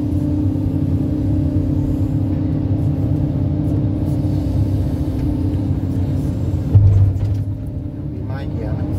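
A Kobelco SK140LC-SuperXM excavator digging soil at a pond bank gives a loud, steady low engine rumble throughout, with a brief louder surge near the end, while people talk over it.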